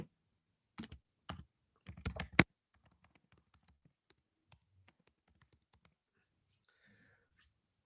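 Typing on a computer keyboard, a few quick clusters of close clacking keystrokes, then faint scattered taps and soft murmuring.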